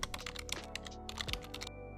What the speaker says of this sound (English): Touch typing is essentially typing without looking at your keyboard.